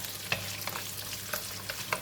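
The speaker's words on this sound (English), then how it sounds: "When oil is getting hot, I am putting in garlic and ginger," Garlic, ginger, cinnamon and clove fry in hot oil before pork shoulder is braised. A close, crackling sizzle continues throughout, broken by several quick scrapes of a stirring utensil, with no talking.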